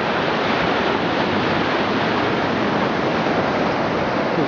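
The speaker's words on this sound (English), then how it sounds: "The whole place is filling with water again. And right at the edge of the wall, the whole bay is back filled with water." Tsunami water surges into Kahaluu Bay and pushes against the sea wall, a loud, continuous, broadband rushing roar of churning surf with wind noise and no voices.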